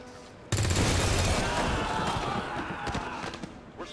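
A sudden loud burst of gunfire in XCOM 2 erupts and keeps rattling with sharp cracks and booming echoes for a few seconds.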